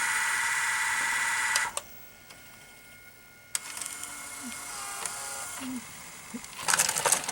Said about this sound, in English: I will fast forward this tape to the end